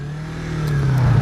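A Yamaha R3 motorcycle engine revs as the clutch is snapped out, a loud close steady drone that rises gradually in level over about a second.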